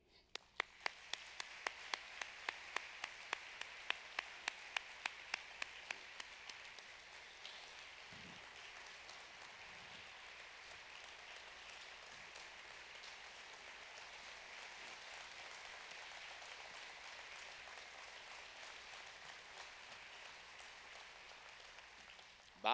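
Applause at an annual operations conference welcoming a guest: a few sharp, single claps at first, then a steady wash of many hands clapping for about twenty seconds, moderately distant, with no talking.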